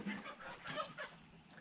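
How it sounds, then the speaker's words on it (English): Roosters on a muddy farm cluck and crow nearby in short, overlapping bursts, fairly faint and close together, with a murmur of voice in the background. "We got some roosters going to have to be making a trip."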